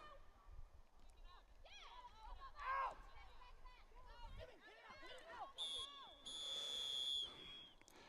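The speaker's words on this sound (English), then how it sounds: "And at that whistle, that is the half." A referee's whistle ending the first half of a varsity girls' soccer match between St. Mary and Pioneer, heard as a sustained high blast over distant crowd noise and chatter.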